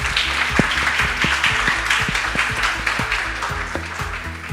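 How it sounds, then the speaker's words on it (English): Audience applause at a speaking session, a steady dense round of clapping sustained for several seconds, with faint voices and some musical tones running underneath. "Should we give them a round of applause?"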